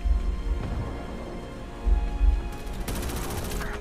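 Bursts of automatic gunfire in Starship Troopers Extermination, heavy low thuds and rapid clattering shots that surge near the end, loud and close with little else under them.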